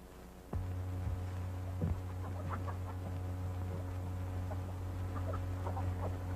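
Chickens cluck in scattered short bursts over a steady low hum, fairly quiet and without voices.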